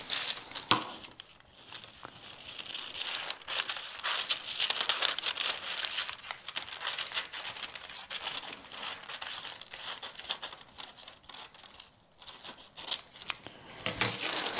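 Scissors snip through guipure lace for a jacket piece, a steady run of close, crisp cuts and soft crinkling of the lace fabric with no talk.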